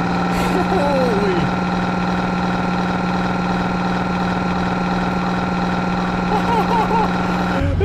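A loud truck engine in a video game rumbles and idles steadily with a deep exhaust drone, while voices speak briefly over it.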